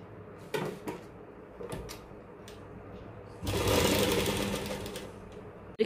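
Sewing machine stitching the crotch seam of loose palazzo trousers: a few handling knocks and clicks first, then a steady close motor whir with rapid needle chatter for about two seconds, no speech.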